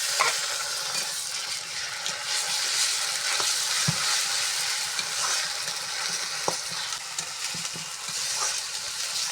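Ground garam masala paste with cumin, garlic and dried chilli frying in a pot over fried onions in a village kitchen, a dense steady sizzle broken by occasional scraping stirs and soft knocks.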